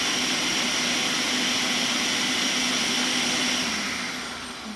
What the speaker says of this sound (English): now that we have peeled the tomatoes and put the tomatoes in the blender